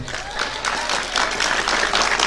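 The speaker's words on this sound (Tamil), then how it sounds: "கைத்தட்டல் எல்லா திருநெல்வேலி அம்மாக்களுக்கும் சமர்ப்பணம்" An audience at a Tamil motivational speech claps together in a dense, sustained burst of applause that stays loud and even throughout.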